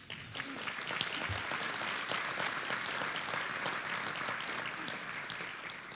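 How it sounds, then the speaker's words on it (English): An audience applauds the mayor's introduction at a state of the city event, a dense, steady clapping from a crowd that continues evenly throughout. "You can keep clapping"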